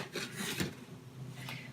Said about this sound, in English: we're gonna scrape this sticky dough